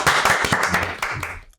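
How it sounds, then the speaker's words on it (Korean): A short burst of applause from a small group on a Korean radio show, brisk and close, fading out after about a second and a half with no talk over it. "다시 한번 박수 한번."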